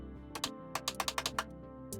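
A button being pressed repeatedly, first mistaken for a bottle being pushed in: a quick burst of sharp, close plastic clicks, two at first and then a rapid run of six or so, in a quiet room with no talking.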